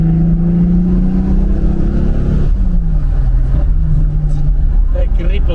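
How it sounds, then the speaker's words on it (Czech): A twin-turbo car accelerates under load with a loud, droning engine note that rises in pitch, dips as a gear changes, then climbs again, heard from inside the cabin. "To první turbo je takové decentní, pak si dofoukne to druhé a úplně to přepne zvuk toho auta prostě."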